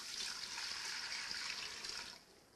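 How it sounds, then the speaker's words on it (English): Water pours into a cooking pot for a vegetable soup, a close, steady hissing splash that runs evenly and then cuts off near the end, with no talking over it. "Let's put our water in the pot."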